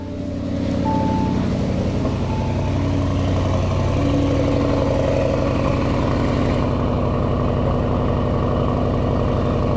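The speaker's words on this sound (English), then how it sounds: "A throaty startup before it settles down. That's that twin turbo V8 checking in." Twin-turbo V8 of a Bentley Flying Spur idling steadily outside the car, a deep even rumble that holds loud and constant throughout.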